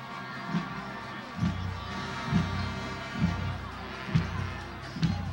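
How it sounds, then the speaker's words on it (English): Sideline crowd noise at a Nevada Union high school football game against Granite Bay, a broad murmur of many voices with regular low thumping swells roughly every second, heard from a distance. "a little bit of the crowd there on the Nevada Union sidelines"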